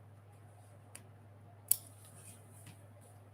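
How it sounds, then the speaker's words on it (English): Small appliqué scissors give a faint snip into quilt fabric, with one soft click and then a single crisp, close cut in an otherwise quiet room. "Make a tiny snip in the background only."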